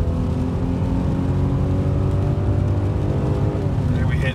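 Mercedes-Benz E350 4matic estate with a 7-speed automatic pulling steadily under acceleration, a smooth continuous engine drone with rising harmonic tones and steady road rumble from inside the cabin.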